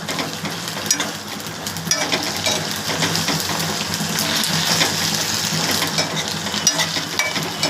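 Coriander leaves fry and sizzle in a pan while being stirred, a steady close crackling hiss broken by scraping stirs, with no talking.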